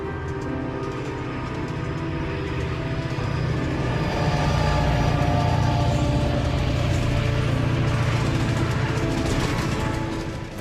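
Freight train 413 rolls along the track in a steady, heavy rumble that grows a little louder and deeper partway through, continuous and fairly close.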